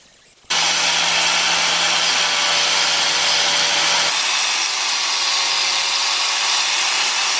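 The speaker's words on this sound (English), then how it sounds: "while Tim's out there grinding brackets to make them fit the axle" A power grinder works steel brackets to fit an axle for a truck build, starting abruptly and holding a loud, steady whine that shifts tone partway through.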